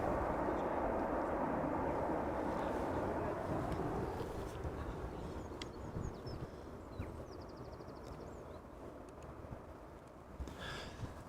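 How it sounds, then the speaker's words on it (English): Embraer E195-E2 landing at Amsterdam Schiphol Airport, its reverse thrust a loud, broad roar close by that slowly fades into a softer, more distant rumble. "the E2 Embraer 195. Little bit of reverse thrust there."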